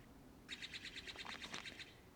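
A loud, close bird sings a rapid series of bright, repeated chirps for over a second, standing out clearly against quiet background hiss.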